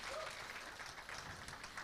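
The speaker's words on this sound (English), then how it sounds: "Let's give a round of applause" Faint, steady applause from an audience at a cohort demo day welcoming the country director, a soft continuous wash of many hands clapping, distant and low in level.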